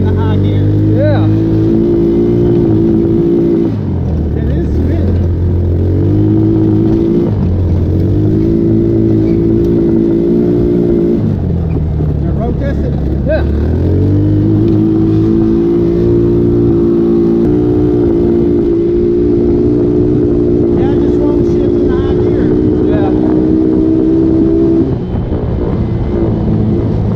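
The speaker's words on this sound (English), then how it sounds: "Like the CVT, like the CVT ain't kicking in the high gear." A Tomberlin Crossfire 150cc engine with a CVT failing to shift into high gear repeatedly revs up and drops back, a loud close droning whine that holds and falls in uneven surges, with people talking over it.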